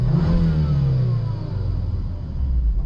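A Volvo S60R engine runs steadily after a crank no-start fault was fixed, giving a close, loud, low rumble with a slight swell in revs toward the end.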